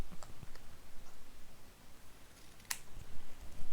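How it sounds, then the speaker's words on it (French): Scissors cut cardboard triangles in half, producing a series of close, crisp snips and clicks at an uneven pace, with one sharp snap midway. "je viens juste les couper en deux comme ça"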